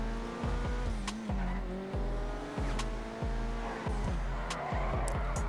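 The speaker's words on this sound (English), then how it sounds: "you can possibly get some power drifting out of this thing as well. Just high-speed drifting." Invetero Coquette D5 sports car drifting in GTA Online, its engine revving up and down in repeated surges while tires squeal through the slides, loud and close.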